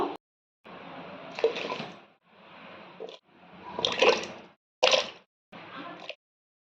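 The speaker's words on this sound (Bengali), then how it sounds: "এবারে সব সবজিগুলো ধুয়ে নেব।" Cut vegetables are washed in water, with sloshing, splashing and plopping in several separate bursts separated by short silences, close by.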